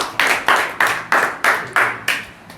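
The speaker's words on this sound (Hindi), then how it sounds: "ताली बजा दो उसके लिए।" Children clap for a fellow student in a tuition class, a run of about eight sharp, evenly spaced claps, close and loud, with no talking.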